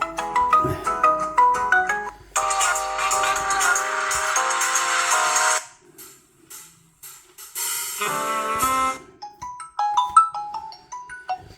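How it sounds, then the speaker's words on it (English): Several electronic ringtones from a POCO X4 Pro 5G phone play one after another, bright melodic tones and chiming patterns, fairly loud, with short gaps of near silence between them. "let's have a look at the ringtone volume"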